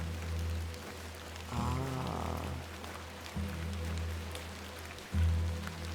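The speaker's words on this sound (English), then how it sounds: "Guess I'm just walking in the rain." Steady rain hiss while a character walks outside in a video game, with low rumbling ambience and a muffled voice-like sound partway through, no talk.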